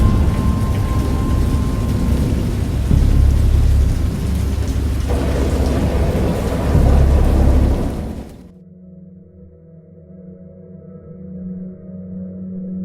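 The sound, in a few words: thunderstorm with thunder and rain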